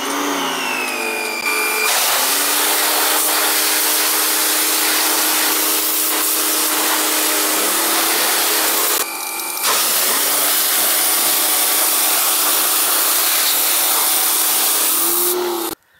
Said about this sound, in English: We're going to power wash that off and get the thing ready for a quick coat of paint.